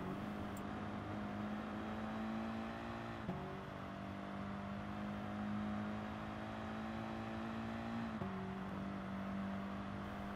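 Race car in Gran Turismo Sport accelerating on the Dragon Trail Seaside circuit, a steady loud engine drone rising in pitch with two brief gear-shift dips, heard close and continuous with no talk.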